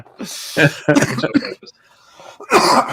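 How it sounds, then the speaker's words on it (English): A person coughs several times in short, harsh bursts, close by, with a brief pause before a final cough. "See, the cough's coming back."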